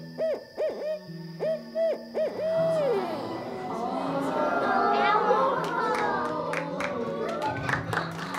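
A barred owl hoots in a rhythmic series of loud, close calls at a children's magic show, after which a noisy crowd of kids chatters and claps throughout.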